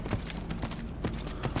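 A horse's hooves galloping in the video game Skyrim, a steady rapid clip-clop rhythm with soft thuds, heard alone over a dense background.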